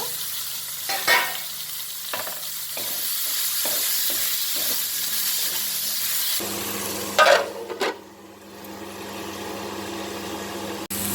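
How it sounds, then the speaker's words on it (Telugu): Onions, ginger-garlic paste and tomatoes fry in oil in a pan for gongura chicken curry, giving a steady close sizzle broken by scraping stirs, with no talking. "వేగినాక టమాటాలు, ఇది కూడా మెత్తగా ఉడకాలన్నమాట"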